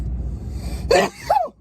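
A single sharp sneeze from a bearded man, a burst of noise followed by a brief rising vocal tail, loud and close with no talking.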